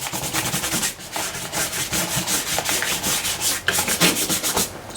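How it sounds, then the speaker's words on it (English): A brush scrubs textured transparent white paint, with rapid rhythmic back-and-forth rubbing strokes that are loud and close, broken by brief pauses, with no talking. "And then I'm just going to do some scrubbing here."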